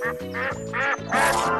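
Cartoon ducks quack in a steady run of bright, nasal calls over a cheerful musical backdrop, loud and close, with no talking.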